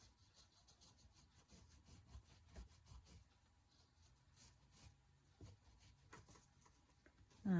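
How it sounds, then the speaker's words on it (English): Crayon rubbing on paper while colouring a pumpkin picture, smearing colours together: faint, steady scratchy strokes with soft irregular rhythm, close and quiet, ending in a brief louder bump. "I'm still moving my crayon in the shape of the pumpkin, smearing those colors together"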